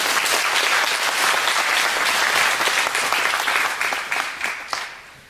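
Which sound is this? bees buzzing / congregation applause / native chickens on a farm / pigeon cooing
congregation applause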